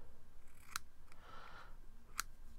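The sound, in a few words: scissors trimming excess cotton on Sherman RTA coil build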